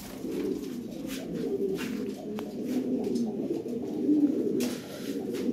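Toy Lahore Siraji pigeons coo in soft, repeated throaty phrases, close by and steady, with faint background noise.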